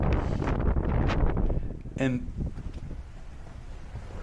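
Strong gusting wind buffets the microphone, blowing sand through a Florida neighbourhood during a sandstorm, a loud roaring rumble that eases off partway through while a person speaks briefly over it.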